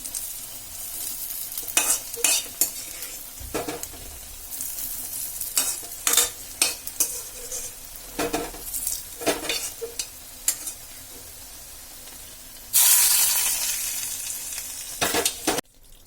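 Roasted coconut is stirred into Kerala chicken thoran in a hot pan, with a low sizzle under repeated sharp scrapes and clacks of a spoon, plus a brief louder burst of frying near the end.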